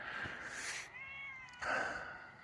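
A pet cat meows outdoors in a yard among oak, ash, maple and cherry trees, giving two or three drawn-out, fairly close mews with a rising-falling tone, one long cry in the middle, heard alone with no talking.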